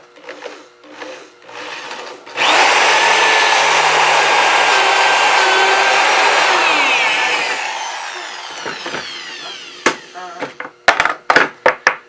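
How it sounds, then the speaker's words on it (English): A power drill bores into the heel of a wooden guitar neck held in a jig, starting abruptly with a loud, steady whirring that runs several seconds, then winds down into a few sharp clicks and knocks. "So then we just drill it."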